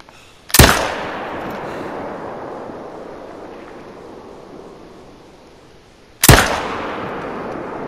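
Two loud, booming rifle shots echo in the hunting game Call of the Wild during an ibex hunt. They come several seconds apart, and each has a long rolling tail.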